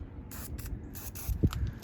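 Short hissing bursts of Buck Bomb scrape generator scent spray being sprayed outdoors around a hunting stand, several quick puffs with a faint rattle of the can, close by and alone.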